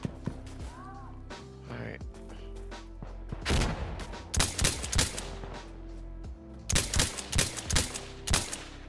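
Gunfire in the Insurgency video game: several bursts of rapid shots, loud and close, arriving in clusters with short gaps, including a steady volley near the end, under low background ambience.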